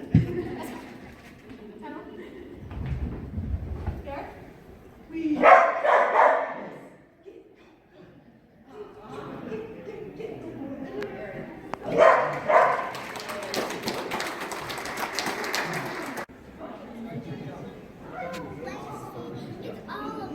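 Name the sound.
dog barking at a dog demo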